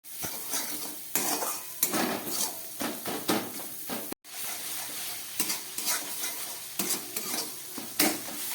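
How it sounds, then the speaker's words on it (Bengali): Grated carrots with turmeric and chili powder fry in a pan while a spoon stirs and scrapes repeatedly, irregular clinks and scrapes over a soft continuous sizzle, close and without speech. "সব কিছু দিয়ে এবার আমি খুব ভালো করে এটাকে একটু ভেজে নেব।"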